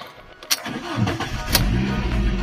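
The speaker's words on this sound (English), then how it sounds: "let's see if the car starts" A Fiat Stilo engine cranks briefly, then catches and settles into a steady, close idle with a low rumble that continues to the end.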